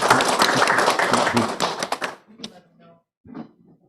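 Applause at a general meeting, dense crowd clapping for about two seconds, then thinning out into a few scattered claps and brief murmurs before quieting.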